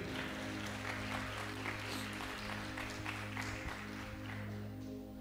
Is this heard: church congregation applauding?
yes